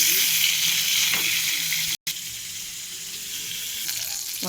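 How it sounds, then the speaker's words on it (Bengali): Pointed gourd (potol) fries in oil with a dense, steady sizzle and stirring scrapes, broken by a brief silent gap midway before the frying resumes at the same level. "লাল করে ভাজা হয়ে গেছে"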